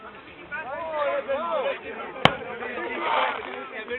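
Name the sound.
large firecracker exploding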